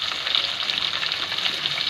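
Onion sizzles and fries in hot oil with ginger, garlic and chili, a steady close crackling hiss with faint stirring, no talk.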